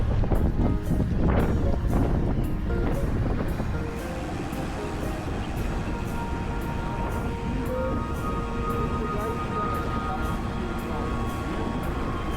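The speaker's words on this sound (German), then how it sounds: "Grauer Himmel, dazu ein feiner, windiger Sprühregen" Strong Scottish Highlands wind buffets the microphone in a steady roar with fine, wind-driven drizzle on a grey, cold day, a faint repeated ticking running underneath throughout.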